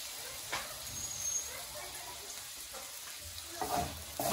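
Keema mince meat sizzling on a hot tawa over a gas cooker, a steady close frying hiss with occasional stirring scrapes and faint background voice.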